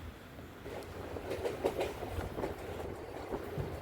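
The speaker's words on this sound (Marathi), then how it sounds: "ट्रेनमधून मी हे शूटिंग करत होते संपूर्ण समुद्राचं पाणी आहे आणि ट्रेन पुला ब्रिजवरून" A train crossing a bridge over the sea, heard from inside the carriage as a steady low rumble with rhythmic clickety-clack of wheels on the rails, moderately quiet.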